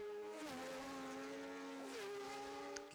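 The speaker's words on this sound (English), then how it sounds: "Some great sounds out there, what with the 3-cylinder Triumphs, the twin-cylinder Ducati, the 4-cylinder Yamahas and Hondas" Racing motorcycles at the Southern 100 road races, including three-cylinder Triumphs, a twin-cylinder Ducati and four-cylinder Yamahas and Hondas, whine faintly from a distance, the engine pitch dropping twice as the bikes shift gear and pass.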